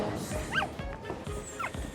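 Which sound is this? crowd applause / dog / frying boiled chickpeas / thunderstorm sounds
dog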